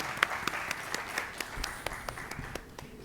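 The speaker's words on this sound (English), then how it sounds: "Let's give all of our parade participants a round of applause." Light, scattered clapping from a small crowd at an opening ceremony for parade participants, a few sharp claps standing out over a soft steady patter.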